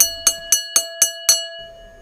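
An ice cream vendor's hand bell rings six times in quick even strokes, bright metallic clangs close by, then trails off into quiet.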